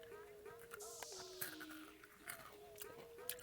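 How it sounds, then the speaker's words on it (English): Crunchy white chocolate red velvet cookie candy is bitten and chewed close to the mic, giving several sharp crunches over a steady electronic tone in the background. "It's kind of more of a crunchy cookie bite."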